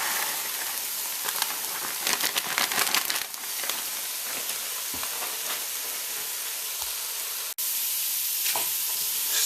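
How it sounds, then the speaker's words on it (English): Quorn mince stirred in a frying pan over medium heat, sizzling and hissing steadily, with clustered scraping bursts from the stirring early on and a few sharp clicks, heard up close with no talking. "Stir in the Quorn on a medium heat."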